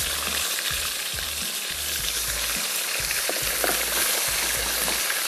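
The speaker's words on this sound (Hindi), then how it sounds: "चिकन डाल के फ्राई करेंगे।" Chicken sizzles and fries in hot vanaspati ghee for a frontier chicken masala, a loud, continuous crackle with rhythmic stirring scrapes underneath and no voices.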